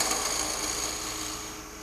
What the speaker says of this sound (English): we'll go to a spindle gouge and put a nice rounded end on it like so